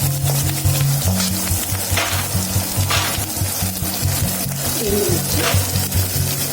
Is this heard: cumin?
yes